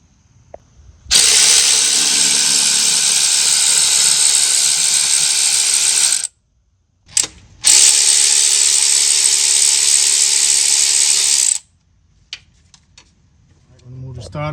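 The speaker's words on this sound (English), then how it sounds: "Let's remove this 10mm bolt right here first, and there's another one right there." A power ratchet spins out 10mm bolts from the starter shield on a GMC Sierra with a 6L80 transmission. It makes two long, loud buzzing runs of about five and four seconds, split by a short pause, and a faint clatter follows.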